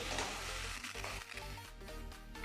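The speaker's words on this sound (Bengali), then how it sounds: "এখন এই মশলাটাকে কিছুক্ষণ সময় নিয়ে কষিয়ে নেব" Spice paste (masala) for a fish curry sautéing in a pan, giving a soft, steady sizzle. Stirring scrapes blend in, and a faint musical backing plays throughout.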